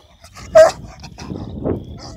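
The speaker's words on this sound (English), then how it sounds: "Just thought we'd catch her making some hound dog noises." A female Bluetick Coonhound lets out one sharp, loud bark close by, followed by softer whining, yipping noises.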